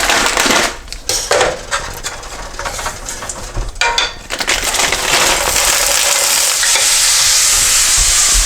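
Frozen diced onions fry in clarified butter in a pan, a steady crackling sizzle with irregular scrapes and stirring knocks early on, settling into continuous even frying, close and loud.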